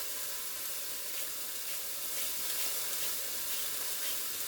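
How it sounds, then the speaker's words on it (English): Split peas cook in a hot pot, giving off a soft, steady sizzle and hiss that stays even throughout, fairly quiet and close, with no talking. "I'm going to put my peas in the pot."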